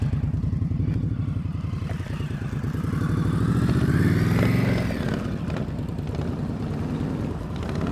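A motorcycle riding slowly during a practice session of slow-speed riding skills, its engine a steady low putter that swells briefly as the bike passes near, then settles into an even idle-like drone.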